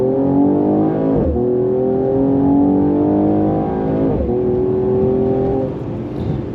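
A turbocharged and supercharged Mercedes-Benz CLS 53 AMG accelerates hard. The engine note climbs steadily, drops sharply at two gear changes and then rises again, loud and close, with no talking.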